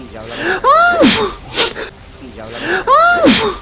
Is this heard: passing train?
no